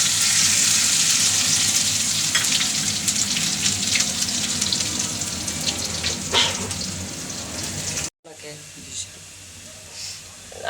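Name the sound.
ginger frying in oil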